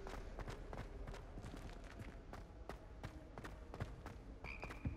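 Frogs croak faintly in the Hogwarts Legacy game world, a scatter of short sharp clicks and croaks with footsteps patting along and a brief chime near the end, quiet and distant.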